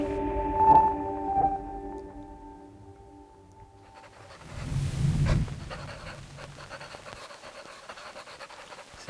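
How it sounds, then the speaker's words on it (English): Papery pencil-scratching ambience from the game Monument Valley 3, soft rough scratches and breathy rustles resembling a panting dog, with a few faint tonal notes early on and a louder scratchy swell midway. "Lucy's pencil papery scratching thing on this ambience"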